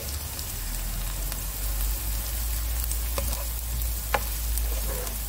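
Onions browning in a pan with spinach added give a soft, continuous frying hiss that sounds like light rain, with a few faint ticks and pops from the stirring.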